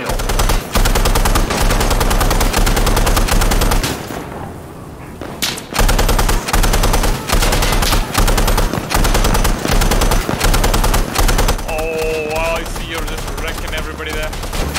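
A technical's mounted machine gun in Insurgency: Sandstorm fires long, loud, continuous bursts of rapid gunfire, broken by one brief pause, with game sounds layered over it.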